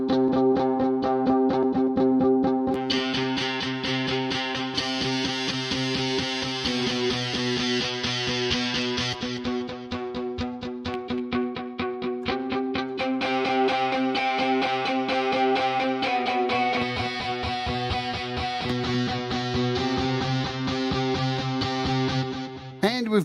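An electric guitar plays through a heavily distorted amp cabinet effect in an iOS music app, sustained chords shifting every few seconds, thick and gritty with no talking over it.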